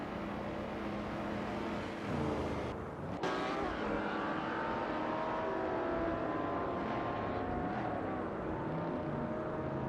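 Vintage supercars roar around Spa in a racing simulator, a continuous, fairly close engine drone with a brief dip at a gear change and steady revving throughout.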